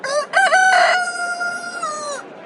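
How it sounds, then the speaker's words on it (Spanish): A rooster crows once, loud and close, in a long drawn-out cock-a-doodle-doo against a quiet background. "Inmediatamente cantó un gallo."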